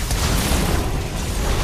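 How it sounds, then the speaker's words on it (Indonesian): An explosion effect bursts on a hero's HP bar as the hero is eliminated in the mobile game Mobile Legends, giving a dense, loud boom and rumble that fills the short moment. "Oh, kayak ada efek ledakan gitu ya di bar HP-nya"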